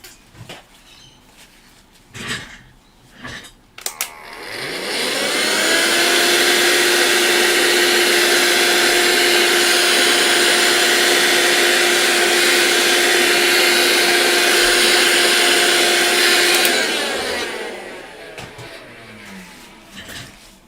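A vacuum cleaner with a HEPA filter sucks up pastel powder: after some clattering handling noises, the motor spins up to a loud, steady whine lasting about twelve seconds, then winds down.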